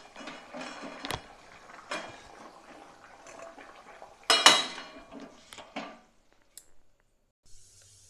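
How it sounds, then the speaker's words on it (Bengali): Metal kadai set down on a stove while cooking a Bengali fish curry, with a few sharp clanks and scrapes of metal against metal, close and moderately loud, then quiet. "কড়াই বসিয়ে দিয়েছি,"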